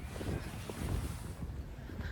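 Steady, cold wind on a sunny day buffeting close to the microphone, a low rumbling roar with gusty swells that continues throughout without any voices.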